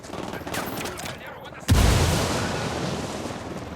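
A frag grenade goes off in Ghost Recon Wildlands amid gunfire, one sudden loud blast with a deep rumbling tail that follows a stretch of shots and voices.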